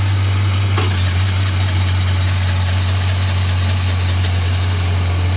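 Choked motorcycle engine idling, a loud steady low hum with constant vibration and a couple of brief clicks, holding even throughout.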